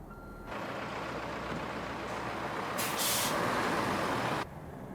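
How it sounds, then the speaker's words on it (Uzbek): A bus pulls away with a steady engine roar, a sharp hiss of air brakes releasing midway and reversing beeps, heard close and continuous before cutting off abruptly. "Avtobus ketyapti."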